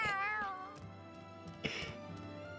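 A cat meows in Tales of Arise, one clear drawn-out meow up front, then a second softer meow over quiet game ambience.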